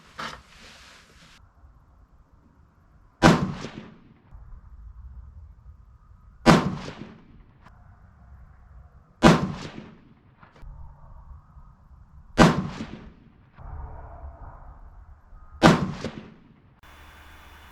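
Five loud, sharp rifle shots from a 6.5 PRC Seekins Precision Havak spaced about three seconds apart outdoors, each a hard crack with a decaying tail, steady low background between them.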